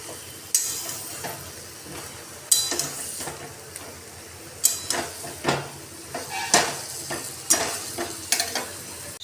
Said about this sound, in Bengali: আমি এটা একটু ভালো করে কষিয়ে নেব।